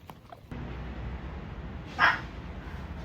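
A dog gives a single short, high yelp or whimper partway through, close by, over a low background hum with no speech.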